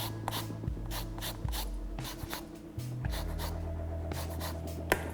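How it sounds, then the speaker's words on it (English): Oranges zested on a very fine grater straight into a dry cake mixture, heard as a run of quick, dry rasping strokes in short bursts, close and fairly soft, with no talking. "I'm going to zest 3 oranges using my very fine grater straight into my dry mixture."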